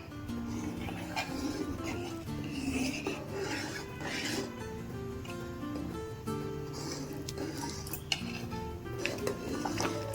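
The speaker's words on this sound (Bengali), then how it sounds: "পায়েসটাকে আমি গুড়ের সাথে ভালোভাবে একটু ফুটিয়ে নিয়েছি, টকবক করে ফুটতে শুরু করে দিয়েছে" Payesh, a rice pudding made with milk and jaggery, simmering in a pot while a utensil stirs and scrapes against the metal, giving continuous clinking and rubbing sounds close up over a low bubbling bed.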